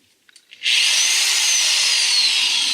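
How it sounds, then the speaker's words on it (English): A power drill bores through material on a mini rock adaptor prototype, starting with a few faint clicks before a loud, steady high-pitched whine kicks in and holds without a break for the rest of the moment. "It would definitely help if I had the drill spinning the correct way."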